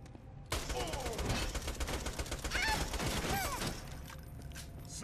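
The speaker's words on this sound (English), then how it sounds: "I'm trying to shoot the fucking chains, please." Sustained automatic gunfire in Borderlands 2, fired at chains, a loud rapid burst of shots running for several seconds before cutting off, with whizzing game effects layered over it.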